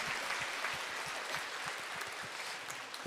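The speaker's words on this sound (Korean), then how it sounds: "영광의 박수 올려드립니다." A worship audience at a church praise and testimony event gives a soft, continuous round of applause, with irregular claps sounding fairly distant and moderately quiet throughout.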